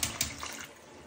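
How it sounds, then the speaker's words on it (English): A household toilet with limey water is flushed, giving a brief gush and swirl of water followed by a quieter trickling, fairly soft and with no talking. "Let's give it a flush."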